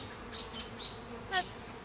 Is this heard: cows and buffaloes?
no